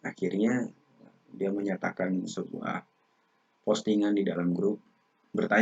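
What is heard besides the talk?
None of the usual background noises is heard.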